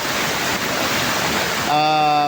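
Floodwater rushes beneath a newly built bridge in a steady, loud roar of broadband churning water, with a brief tonal sound appearing near the end.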